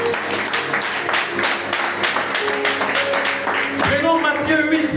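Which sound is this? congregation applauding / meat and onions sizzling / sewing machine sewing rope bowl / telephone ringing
congregation applauding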